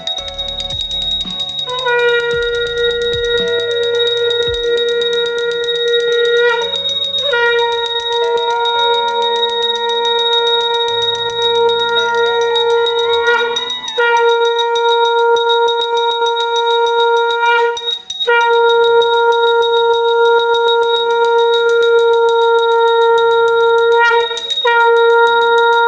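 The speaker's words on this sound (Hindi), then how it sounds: "इसके बाद शंख बजाएंगे माँ भगवती के" A conch shell blown during Durga worship, a sustained bright tone held steadily across the whole stretch and swelling in a few long breaths, loud and alone with no voices.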